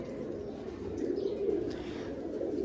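Pigeons coo steadily at close range in a loft or coop, a low continuous throaty murmur of several birds overlapping, with no talking.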